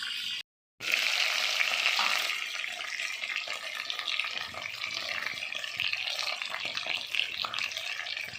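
Chicken frying in a covered pot for shorba gives a loud, steady sizzle with crackling and spattering that continues for several seconds after a brief gap, with no voices.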